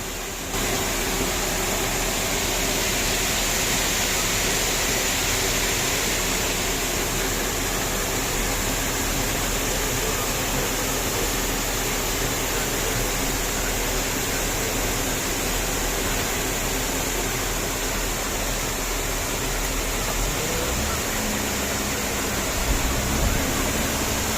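A waterfall inside a mine pours as a loud, even, broadband rush of water that holds steady throughout with no pauses and no voices.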